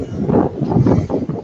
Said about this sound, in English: It sounds very windy out there.